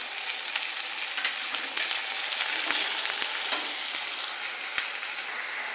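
Peas, bay leaf and curry leaves sizzle steadily in hot oil in a pan for pav bhaji, a continuous bright frying hiss with occasional sharp crackles and spoon taps.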